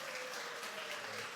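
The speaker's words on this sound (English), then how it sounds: "Let's applaud Gerald." A university lecture audience applauds briefly after a robotics demonstration, a soft, continuous wash of clapping heard from a distance.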